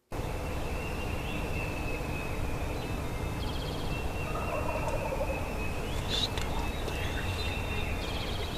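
Wild turkey tom gobbling from its roost on a cloudy spring morning in Pennsylvania woods, the calls faint and distant over a steady hiss of outdoor ambience.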